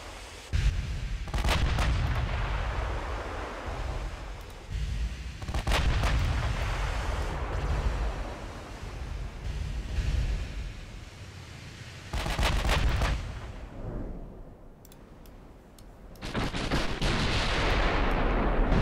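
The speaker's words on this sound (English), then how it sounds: "Let's get all the guns firing if we can." Battleship main guns firing in the naval game Ultimate Admiral: Dreadnoughts, a Tennessee battleship against Nelson, with repeated heavy booms and rumbling blasts layered over a dense, continuous battle roar that briefly dips before swelling again.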